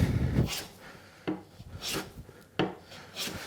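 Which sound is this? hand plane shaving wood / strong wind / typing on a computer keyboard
hand plane shaving wood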